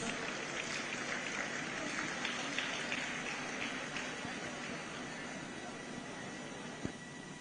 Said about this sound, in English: Please, let's give the Governor of Lagos State a big round of applause